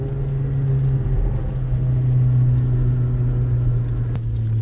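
A Mercedes-AMG car engine drones with a steady, loud low rumble that holds nearly constant throughout, close by and without talk.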